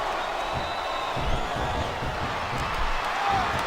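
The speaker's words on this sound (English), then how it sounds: "It sounds like this capacity crowd has something on their minds" A capacity crowd cheers steadily through an arena in the SmackDown vs Raw 2007 wrestling video game, a dense continuous roar with slight swells and no clear break.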